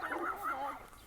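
A big pup and a chihuahua in a small collection of homes along the North Country Trail give off high, whiny yips and whimpers, fairly close and continuous over a short stretch.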